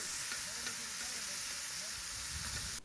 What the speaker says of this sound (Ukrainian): Спершу в уже розігрітий казан закидаємо нарізану кубиком свинячу грудинку